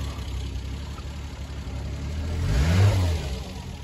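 A Triumph Vitesse MK2 convertible engine, started cold, idles with a low burble, then a single throttle blip swells the revs into a rising growl before it settles back down.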